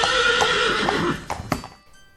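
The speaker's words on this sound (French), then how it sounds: "Puis il entre dans l'écurie où se trouvent 2 chevaux, Moreau et Bayard." A horse neighs in a stable as a storytelling sound effect, one loud drawn-out whinny that breaks into shuddering snorts before fading out.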